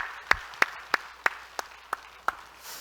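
A church congregation claps together in unison, seven crisp, evenly spaced claps in a steady rhythm, fairly close and with no talking over them.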